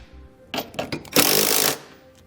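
Trailer hitch bolts on a 2017 Toyota RAV4 are snugged down with a 19mm socket for a Curt hitch receiver, first in a few short choppy bursts, then one loud rattling half-second run, close by.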